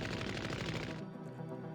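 Rapid, dense bursts of 100mm machine-gun fire in the SD Gundam G Generation Genesis video game, loud and continuous for about a second before cutting to a quieter tail with a final short burst.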